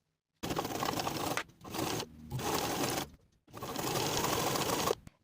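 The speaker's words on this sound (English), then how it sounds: "Edge stitch along both long edges." Close, buzzy whir of a sewing machine edge stitching fabric, running in three steady bursts separated by short pauses, with no talking.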